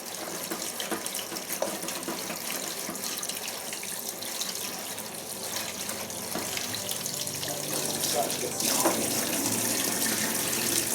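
Tap water running into a sink, a steady splashing rush near the microphone that grows slightly fuller as the basin fills, with no voices.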